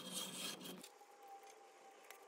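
Soft, steady rubbing rasp of sandpaper against a wooden goblet spinning on a lathe, fairly quiet, easing off after the first second into a faint hum.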